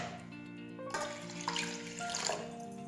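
Water is poured over horse gram dal in a cooking pot, a faint trickling splash that swells and gets louder partway through and continues steadily to the end.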